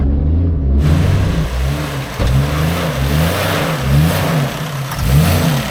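An offroad vehicle's engine revs steadily under light throttle, a close, loud mid-pitched drone that rises and dips in repeated surges while the vehicle keeps rolling.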